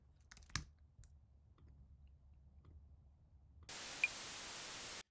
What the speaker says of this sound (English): on the left channel we have a clave, on the right we have some white noise